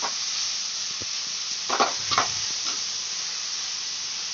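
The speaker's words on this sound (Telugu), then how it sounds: "బీట్రూట్ అనేది మంచిగా ఒక ఐదు నిమిషాలు ఫ్రై అవ్వాలి పచ్చి వాసన పోయేటట్టు మంచిగా ఫ్రై చేసుకోవాలి" Grated beetroot frying in a pan for a Telangana-style curry, a steady broad sizzle with a few sharper bursts of crackle and scraping as it is stirred, close and continuous.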